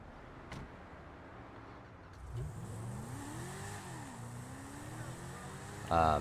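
A supercar engine in GTA Online revs and climbs through the gears, its pitch rising and falling as it accelerates, moderately loud, with a short voice near the end.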